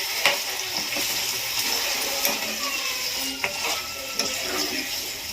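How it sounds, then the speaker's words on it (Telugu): Pieces of vegetable fry in hot oil with a dense, steady crackle and sizzle, marked by a few sharp pops and stirring clinks. "కాసేపు ఆయిల్లో ముక్కలు కొంచెం వేగాలండి."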